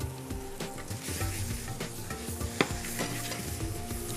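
Lamb pieces and onions browning in a hot pan for rogan josh, a steady close sizzle with continuous stirring scrapes and one sharper knock of the spoon, no talking.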